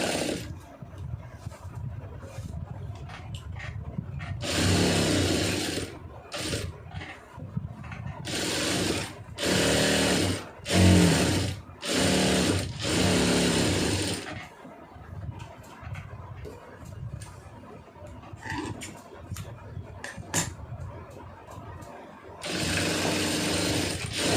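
A sewing machine stitches a lined blouse, running in repeated loud bursts of needle clatter separated by short quiet pauses, close up with no voice over it.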